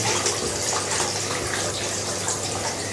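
Hands swishing aquarium gravel around in water indoors, a steady close watery rush and churning with faint grainy rattles throughout.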